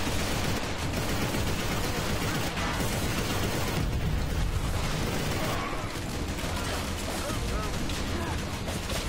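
Enemy gunner firing in the zero-gravity shooter video game Inversion: sustained, dense gunfire and crashing impacts fill the scene, with someone talking over the din.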